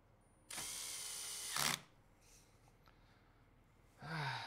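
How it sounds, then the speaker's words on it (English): A power drill used while building a PC whirs in a sustained burst of a bit over a second, then stops, and another short spin follows a few seconds later, close and loud. "I should use the drill."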